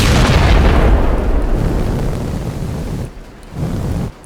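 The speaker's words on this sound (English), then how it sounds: "Right now, everything is exploding." A tornado tearing apart a house in the video game Teardown, heard as a loud, continuous roaring rumble of wind and crashing debris that eases briefly near the end before surging again.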